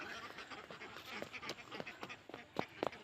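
Domestic ducks quack in the evening outdoors, a busy overlapping run of short nasal calls at moderate distance with no talking.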